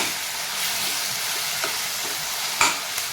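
Onion and capsicum frying in a pan for paneer chilli, a steady close broadband sizzle with occasional stirring clinks and one sharper scrape near the end, no talk.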